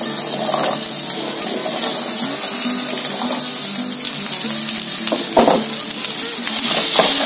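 Cut okra fries in a spoonful of hot oil, a loud continuous sizzle with occasional spatula clinks and stirring scrapes, close up and without talk.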